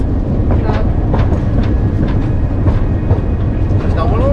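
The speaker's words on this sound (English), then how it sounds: "It's the way back train." A train rumbles past close by near a Portugal beach, its heavy low roar carrying rhythmic clickety-clack beats and a brief squeal, with people speaking over it.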